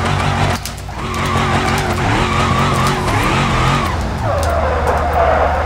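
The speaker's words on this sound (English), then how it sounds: "I do a little front wheel drive drift" In the BeamNG.drive video game, a front-wheel-drive car drifts with a long, continuous tire squeal over a loud engine drone, wavering in pitch for several seconds before the screech shifts higher near the end.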